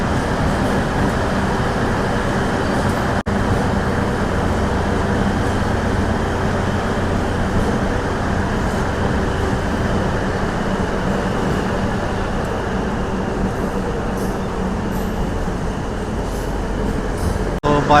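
A DEMU passenger train on the Nandyal to Tirupati line leaving Kadapa junction rumbles steadily from inside the coach, a loud constant roar of wheels and engine with faint rattling throughout.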